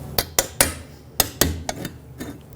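Metal tapping knocks a 2012-2017 Toyota Camry front brake backing shield into place, with about seven sharp, ringing hits in an uneven rhythm, close up and alone.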